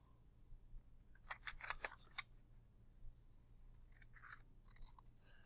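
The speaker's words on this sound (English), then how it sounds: "I'm going to cut off each of these boxes" Scissors cut boxes off a paper notebook page in a quiet room: a quick cluster of crisp, close snips, then a second, softer set a few seconds later.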